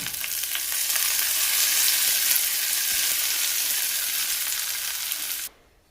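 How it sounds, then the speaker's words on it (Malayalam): Fried mustard seeds and curry leaves poured into a quick Kerala curry set off a loud, close sizzle that holds steady for several seconds, then cuts off abruptly near the end. "കടുക് വറുത്തത് കറിയിലേക്ക് ചേർക്കാം."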